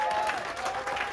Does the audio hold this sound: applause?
yes